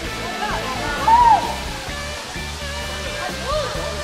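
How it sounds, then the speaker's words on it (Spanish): The Salto waterfall at Mazamitla roars in a steady, loud rush of falling water close by, while people talk over it throughout. "si ya les ha tocado venir a esta cascada del Salto en Mazamitla y han visto más agua"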